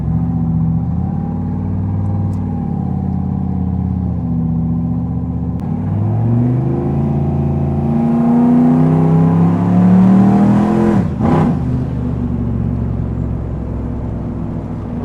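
A single turbo Chevrolet Silverado pulls hard in third gear, its engine rumbling and rising in pitch as it accelerates, with a brief sharp burst near the end.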